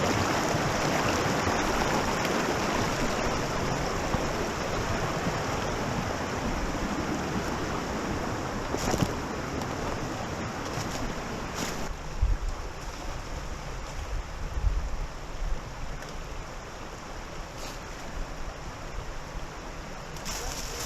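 Water rushing and splashing at Dismal Creek in the Ozark National Forest during a crossing, a steady broadband wash that stays loud at first and then eases, with a few brief knocks and splashes and no talking.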